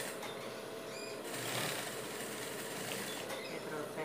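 A domestic sewing machine stitches fabric for a dog shirt, running in one continuous fast, even whirring rattle, close and fairly quiet.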